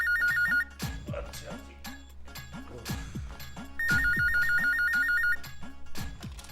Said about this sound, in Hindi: क्या सुना किसका फोन है?